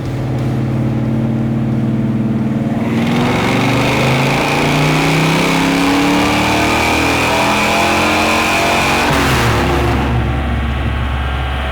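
A 1968 Dodge Charger with a 440ci engine and FiTech EFI revs hard on a dyno, pitch climbing through a long sustained pull before dropping back, loud and close with no talking.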